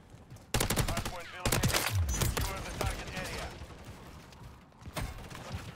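Bursts of automatic gunfire in Call of Duty MW3 from a Holger 26 loadout, loud rattling volleys with mechanical clicks between, over a dense game soundscape.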